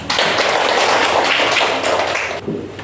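Classroom applause for a group of students, a dense burst of many hands clapping at close range that fills the room for over two seconds and then cuts off abruptly.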